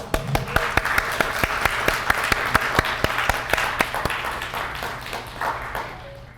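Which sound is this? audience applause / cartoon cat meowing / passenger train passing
audience applause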